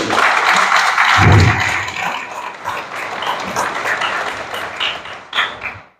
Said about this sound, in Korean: 역시 큰 박수로 맞아주십시오.